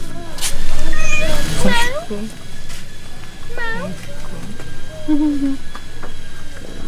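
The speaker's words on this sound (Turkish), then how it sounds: "Burada ne var? Kedi." A cat on a city tour in Phuket gives several close, loud meows in uneven bursts while people talk and coo around it.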